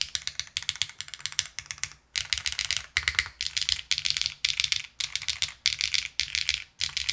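Rapid clacky keystrokes on a mechanical keyboard come in bursts with short pauses, close and crisp with no talking.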